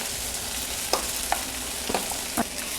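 Roasted semolina stirred into sautéed onion and tomato in a pan for upma: a steady low sizzle with a few soft spoon taps and scrapes, close up and with no talk.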